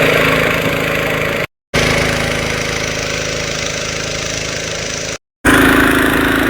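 Loud, steady drone of a boat engine running close by, unbroken apart from two brief gaps.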